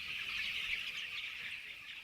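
Chickens in a farm pen in Trinidad cluck and chatter together in a dense, continuous flock sound, moderately loud with no pauses.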